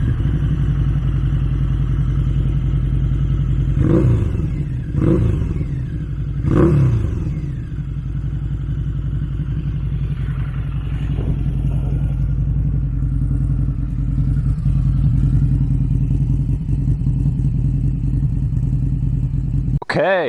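A Harley-Davidson cruiser motorcycle idling close by with a steady low rumble, blipped through three quick throttle revs early on before settling back to a loping idle.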